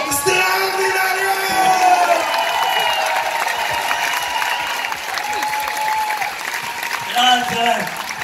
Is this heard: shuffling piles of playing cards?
no